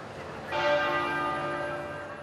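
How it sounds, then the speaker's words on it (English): A church bell strikes at noon with a bright, ringing tone that swells suddenly and then hangs, its overtones sustaining steadily as the sound slowly decays. "At noon, bells rang out in abbeys and cathedrals across the country"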